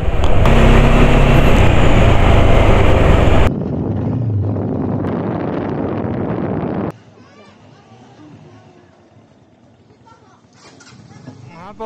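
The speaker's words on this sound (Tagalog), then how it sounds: "Grabe yung hihip ng hangin, nag-iba na." Strong wind blows across a mountain, roaring loudly into the microphone for several seconds before abruptly dropping to a softer gusting and then faint wind; a voice is briefly heard.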